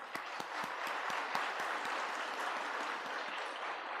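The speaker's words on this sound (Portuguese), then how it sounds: "Por favor, palmas." An audience at a state Spiritist gathering claps steadily, a dense roomful of hands with a few sharper claps standing out near the front, continuing without talk.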